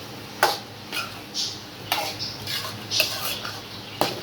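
Ground coconut and green chilli paste sautéing in a pan for Kerala-style pumpkin erissery, heard as a soft background sizzle with several sharp spoon scrapes and clinks against the pan, close by.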